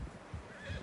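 A horse in Red Dead Redemption 2 gives a short, low snort or whinny, close and brief, lasting under a second.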